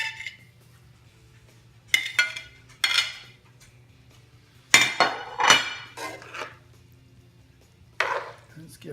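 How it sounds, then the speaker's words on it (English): Shirataki noodles being stirred back into Alfredo sauce in a pan, a few scattered clanks and scrapes of utensils against cookware between quiet stretches, close by with no talking. "we're going to go ahead and put the Shirataki noodles back in"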